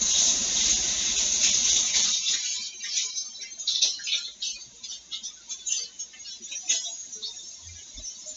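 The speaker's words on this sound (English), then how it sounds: "again, wash your hands." Tap water runs steadily into a sink as hands are washed in a home kitchen, a close hiss that softens and turns splashy and uneven partway through, with brief dull knocks near the end.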